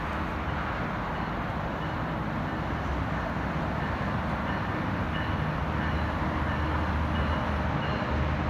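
A Metrolink commuter train, number 686 to Irvine, rolls into Anaheim station with a steady low rumble, constant and fairly loud throughout with no voices.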